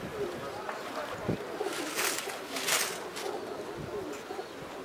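Diving pigeons, just released as a flock, coo softly against a windy outdoor background, with a few fluttering bursts and faint low rumbles.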